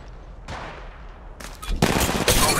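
Rapid automatic gunfire bursts erupt in the Apex Legends Mobile video game, loud and close, building from a short volley into sustained rattling fire.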